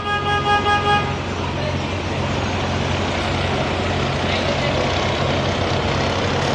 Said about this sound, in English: That's a truck idling.